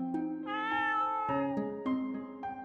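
Cats meow in the video game Rakuen: a run of several tonal, fairly loud meows that overlap closely, with no talking.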